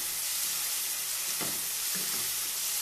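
Red chili powder and garam masala spices sizzle steadily in a hot pan of oil, a continuous close hiss with a couple of soft stirring scrapes partway through.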